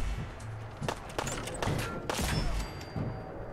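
Gunfire in the Fallout 4 VR video game: several sharp shots fire in uneven bursts, loud and close, over a low rumbling game background.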